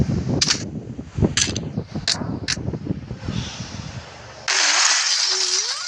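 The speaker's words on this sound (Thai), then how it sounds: "ทำไมมันมาระเบิดตรงนี้" Several sharp explosions in the sandbox game Melon Sandbox burst over a busy background of in-game effects, followed by a sustained loud roaring rush.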